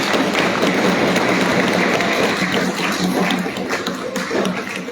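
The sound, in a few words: applause at an award show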